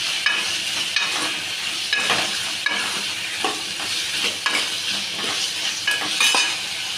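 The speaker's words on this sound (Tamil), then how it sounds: "மஞ்சள்தூள் கொஞ்சம், இதையும் நல்லா கிண்டிக்கலாம்" Potatoes with turmeric powder being stirred in a pan, a spoon scraping and clinking against the metal in repeated strokes over a steady sizzle, close and fairly loud with no voices.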